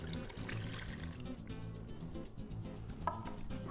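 A cup of water poured into a pot of taco pasta, a steady rushing splash running through the whole clip at close range with no speech.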